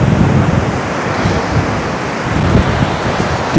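Strong wind roars across an open beach at Anapa while storm surf churns on the sea, a dense, steady broadband rush with low gusty rumble and no voices, loud throughout.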